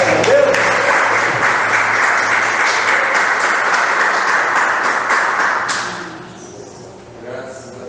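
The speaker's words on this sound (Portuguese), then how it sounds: "Vamos aplaudir o Senhor," Congregation at a family church service applauding, a steady loud wash of clapping that fades after about six seconds, with a voice speaking faintly at the end.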